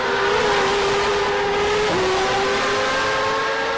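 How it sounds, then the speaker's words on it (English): A race car engine at the Kyalami GP circuit drones loudly and steadily during a race, a sustained high whine with a brief pitch dip midway, no talk over it. "And coming into lap number 14, Carlos slowly trying to build a lead with that powerful engine in the Bravo."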